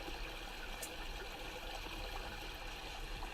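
Clear creek water pours steadily over a small hand-built dam, a constant soft rushing and trickling with no voices, close and even throughout.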